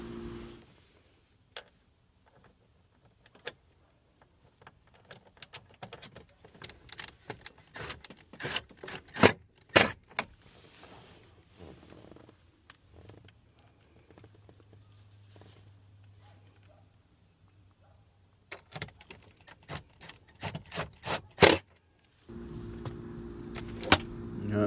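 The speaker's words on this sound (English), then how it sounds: "Now I'm just gonna put my screws back in" Screws go back into the glove box of a 2010 Chevy Silverado 1500 with scattered small clicks, taps and rattles close by, separated by quiet gaps, then a low hum and a steady ambient rumble at the end.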